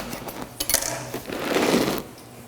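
A knife saws through a crusty einkorn sourdough boule, cutting it in half with a few sharp taps and then a short, close, rasping crunch through the crust.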